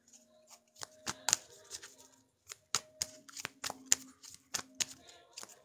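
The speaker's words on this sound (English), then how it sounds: "We cut the deck" A tarot card deck being cut and shuffled by hand, a series of crisp snapping riffles and taps in irregular bursts, close and quiet with no talking.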